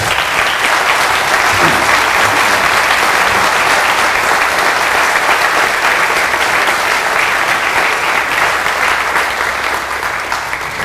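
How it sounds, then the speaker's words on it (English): Sustained applause from a community audience at a chamber of commerce annual meeting, a dense, steady wash of clapping that stays loud and even for the whole stretch with no voices on top. "Please give them a good round of applause."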